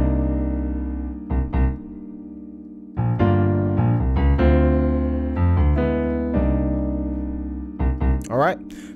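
Piano playing a syncopated chord rhythm from a song, a more complex bouncing pattern of short stabbed chords with gaps between bursts, close and loud with no talking over it.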